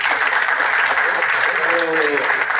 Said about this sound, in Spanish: Sí, pues un aplauso, ¿no?, al compañero.